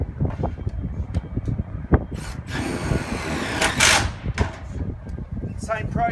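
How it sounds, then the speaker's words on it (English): A power drill driving screws into a CA5000 water tank during assembly, heard in a few short loud bursts amid handling clatter, with a person talking nearby. "So I'm going to drill that one down."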